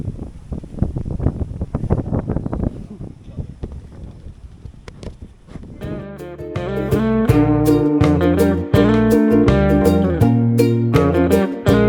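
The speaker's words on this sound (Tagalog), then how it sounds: "ang lakas ng hangin dyan" Strong wind buffets a microphone at a view deck in Majayjay, Laguna, with heavy rumbling gusts for several seconds before loud music takes over and covers it.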